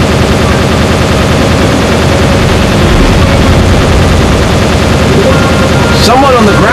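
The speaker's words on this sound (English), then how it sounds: "Fox, use the plasma cannon!" Rapid, dense bursts of plasma cannon fire from a ship in the Star Fox Assault video game, a continuous loud barrage over a storm of game effects, with a brief voice near the end.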